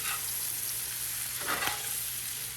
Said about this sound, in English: we're gonna let them cook a few more minutes on this skillet